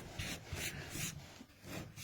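Hand rubbing and sanding down a model rocket nose cone, a dry scratchy abrasive sound in repeated strokes of about a third of a second each, close up with no talking.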